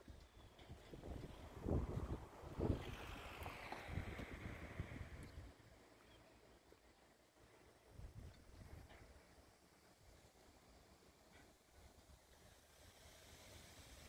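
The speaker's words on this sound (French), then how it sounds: "Aujourd'hui, il y a du vent." Wind blows across an open area at the OCP village in Khouribga, Morocco, with broad gusty rumble and hiss in the first few seconds, then easing to a quieter steady rush, with no voices.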